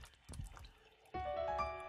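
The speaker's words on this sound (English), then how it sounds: "Red drips pour out from the painting." Red paint drips from a painting in the video game Blank Dream: a few soft wet drip and plop sounds, then a sustained tonal liquid swell, faint and close with no talking.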